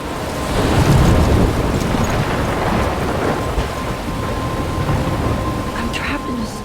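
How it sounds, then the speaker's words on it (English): A heavy thunderstorm in Life is Strange, with dense rain hiss and rumbling thunder filling the whole stretch, loud and continuous, with wind gusting beneath. "I'm trapped in a storm?"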